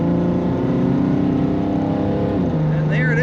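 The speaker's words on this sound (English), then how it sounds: "This little Jeep likes to accelerate, and it's a fun vehicle to drive." A 1999 Jeep Cherokee SE with a straight-six engine and aftermarket exhaust accelerates, its loud, close engine drone holding steady with tonal harmonics before a gear change drops the pitch near the end.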